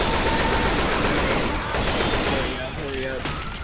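Rapid gunfire in the video game Left 4 Dead 2, dense overlapping shots and automatic bursts for the whole stretch, loud and near, ending with a brief tonal game sound.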